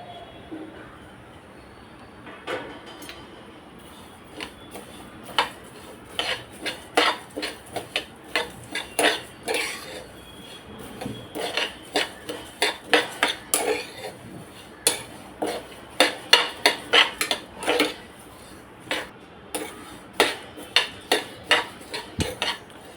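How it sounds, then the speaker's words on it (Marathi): Sesame seeds, flaxseed and other seeds dry-roast in a kadhai, and a spatula scrapes and clatters against the metal in a quick, irregular rhythm that grows busier and louder partway through, close up over a faint background hiss and with no speech. "एका कढईत मी हे सगळ्या बिया आणि सगळं हे तीळ आणि अळशी भाजून घेते."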